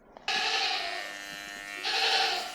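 A cheap $30 electric shaver buzzes loudly against a goat's coat during a whole-body clipping, a steady close whine that swells again near the end as the clippers bite into thicker fur.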